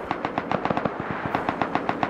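Rapid machine gun fire in the survival video game Rust, a steady burst of sharp evenly spaced shots that pauses briefly around the middle and then resumes, fairly close and loud with no talk over it.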